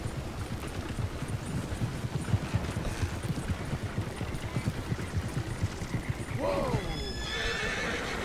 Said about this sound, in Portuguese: Vamos lá buscar o cavalo, Jack.